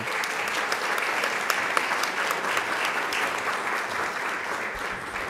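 A school board meeting audience applauds a North Shore Senior High School teacher being recognized, with dense, even clapping that stays loud and steady throughout, no voices over it.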